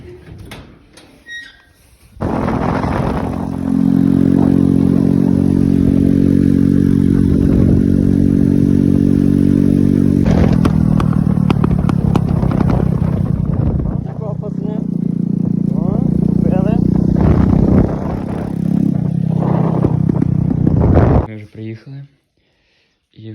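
A Geon Terrax 250 motorcycle fitted with supermoto wheels is ridden on a cold day, its engine droning loud and close with a shifting pitch after a brief quiet start, then cutting off near the end.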